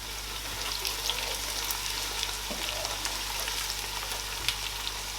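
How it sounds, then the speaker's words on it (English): Onions and meat simmering in oil in a cooking pot, a steady close hiss and crackle of frying with occasional soft stirring clinks, no voices. "Let all the ingredients simmer with your onions."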